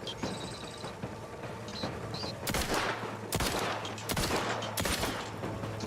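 Gunfire in the video game The Outer Worlds 2: loud, sharp shots in a rapid fusillade, several bursts cracking close over steady game ambience, with no talk.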